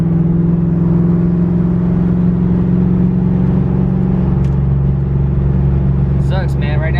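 A car drives at about 60 in highway traffic, its engine and road noise forming a loud, steady drone heard from inside the cabin, with a driver talking over it.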